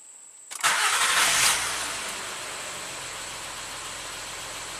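Honda Accord V6 with a cylinder-six misfire fault cranks briefly and catches, flaring loudly up to a rev before settling into a steady, close idle, with no talking.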